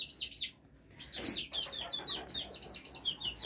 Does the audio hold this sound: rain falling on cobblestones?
no